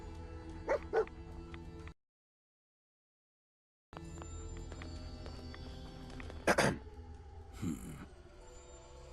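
Dogmeat, the dog companion in Fallout 4, gives a few short, quiet barks and yips, broken by a brief silence, then one sharper bark followed by a softer one.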